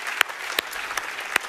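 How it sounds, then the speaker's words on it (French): Church congregation applauding, a short burst of scattered hand claps of moderate loudness, with a few sharper claps standing out. "On devrait applaudir celui qui est la parole."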